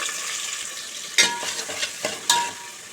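Sliced medium onions frying lightly in a pan for a farm chicken curry give a steady close sizzle, broken by a few sharper scraping stirs.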